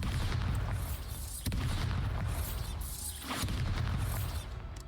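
Bombarda spell explosions in the Hogwarts Legacy video game, heard as deep, heavy booms under a constant rumbling game backdrop, with sharp bursts at two points.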